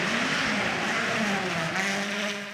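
An M-Sport rally car at the WRC Rally Chile BíoBío 2025 shakedown roars past close by, engine note climbing and shifting through gears as it passes, loud and continuous over a short burst.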